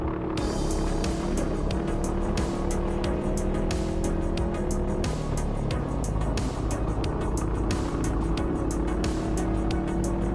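Racing go-karts at a Macey Cup event, engines buzzing continuously and loudly at close range as several karts run nose to tail through a corner exit, pitch rising and falling with acceleration.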